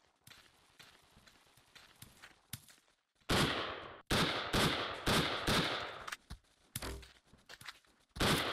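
Rifle shots crack from a Vyhlop VSK-94 in the blocky shooter BlockPost, a series of sharp, loud bursts after quieter footsteps, fired in rapid irregular succession with brief gaps between.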